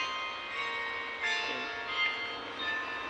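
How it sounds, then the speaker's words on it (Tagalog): A church bell rings with sustained, overlapping metallic tones that hang steadily at a moderate distance, swelling slightly in a few spots over a faint background. "Tumunog na ang bell nila sa simbahan."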